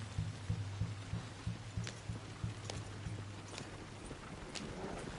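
Hooves of a ridden horse in Red Dead Redemption 2 clip-clop in a steady, even rhythm for the first few seconds before fading out, leaving quiet ambient game sound.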